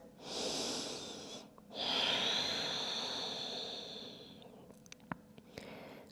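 Slow, drawn-out breathing in child's pose during a yoga session, with two long airy breaths, close and soft, then a few faint clicks.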